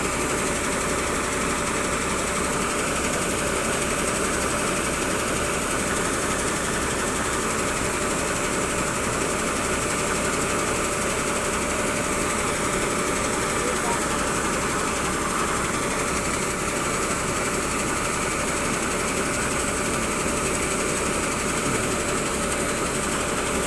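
Diesel engine of an Isuzu D-Max pickup near a combine harvester in a rice field, idling in a steady, dense drone with a fine rattling buzz throughout, constant and unbroken with no voices.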